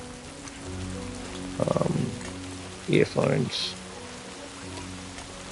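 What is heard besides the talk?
rain in the video game Death Stranding 2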